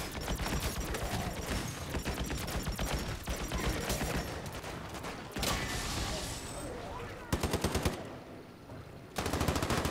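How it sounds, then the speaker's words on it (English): Rapid automatic gunfire from the Call of Duty MWIII Zombies video game, sustained bursts of loud machine-gun fire broken by brief gaps and mechanical clicks, with no talking. "Shooting!"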